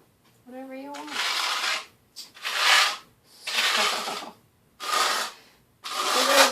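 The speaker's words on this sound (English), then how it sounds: "just use the notch trowel to put little lines in it" A notched trowel combs thinset mortar for floor tile in a kitchen, giving four or five close, gritty scraping sweeps with short pauses between them, after a brief voice at the start.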